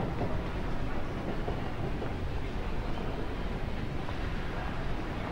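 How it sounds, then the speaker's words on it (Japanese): A train pulls into a station in the video game Tokimeki Memorial 3, heard as a steady, dense rumble of wheels and carriage noise that holds at an even level throughout. "そろそろ電車が来るみたいよ。"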